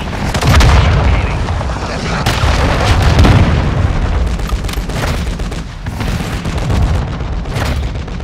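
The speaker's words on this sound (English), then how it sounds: "Hostile cruise missile launched." Cruise missile explosions in Call of Duty Modern Warfare 2, heavy rumbling booms and blasts that roll into one another in a loud, continuous wash of battle noise.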